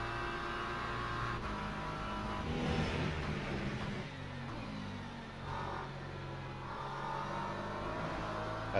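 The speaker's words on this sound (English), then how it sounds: "That Porsche GT3 sure sounds nice in the cockpit" Porsche GT3 engine heard from the cockpit during a multiclass GT3 race at Qatar in Le Mans Ultimate: a steady, loud drone that holds without a break, with the pitch rising and falling slightly as the car accelerates.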